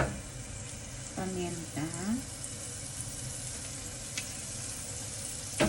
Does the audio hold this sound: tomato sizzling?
yes